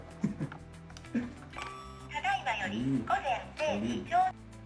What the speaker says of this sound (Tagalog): Ano siyang alarm clock?